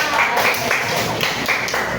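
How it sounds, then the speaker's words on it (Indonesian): Students in a classroom clap for their classmate Cesa, a dense, loud burst of clapping with a few rhythmic swells across two seconds, voices faintly mixed in. "Kasih Cesa, tepuk tangan dong buat Cesa."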